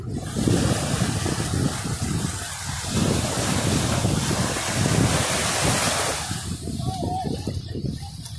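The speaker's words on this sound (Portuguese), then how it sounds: "Muito vento, uma ventania" Strong wind buffets the microphone at a beach while surf crashes nearby, a loud, continuous roar with gusting swells throughout and a brief voice near the end.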